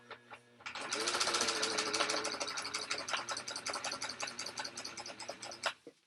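A sewing machine stitches over a tote bag strap with a steady, fast mechanical whir and rapid needle clatter, close and continuous for several seconds, then slows near the end.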